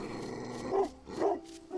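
A dog growls and barks in the mobile stealth game Robbery Bob 2, two short gruff bursts over a steady game soundtrack, moderately loud and close.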